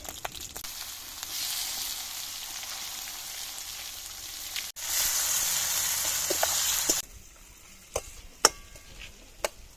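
Onion goes into hot oil already tempered with bay leaf, dried red chili and whole cumin, a soft crackle swelling abruptly into a loud, even sizzle for a couple of seconds before dropping back to quieter hissing with a few sharp pops and taps.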